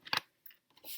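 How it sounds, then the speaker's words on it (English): Scissors snipping a sheet of paper in half, a few crisp close cuts with short quiet gaps between, faint and isolated. "I want to cut this paper in half"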